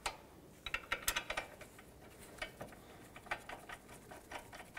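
Nuts and a bolt are tightened by hand during a clutch replacement on a 2006-2011 Honda Civic, with quick, faint ratcheting clicks in irregular bursts and short pauses.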